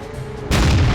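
A tank cannon on an M18 fires once in a tank video game: a quiet low hum, then one sudden loud boom that rolls on to the end.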